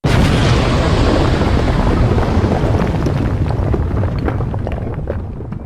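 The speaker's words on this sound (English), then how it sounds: "Suddenly, Loomis disappeared in a violent explosion." A loud, sustained roaring blast with rumbling low end and crackling debris that slowly fades, no voices present.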